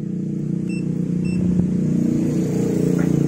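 A Yamaha Aerox Connected scooter with a hard-starting fault runs after being started, its engine a steady close hum with a couple of brief electronic beeps over it and no talk.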